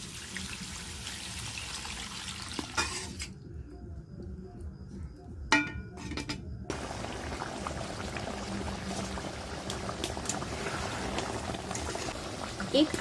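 Mutton curry with potatoes bubbles and sizzles in a pot after water is poured in, a close, continuous boiling hiss with a brief quieter dip partway through.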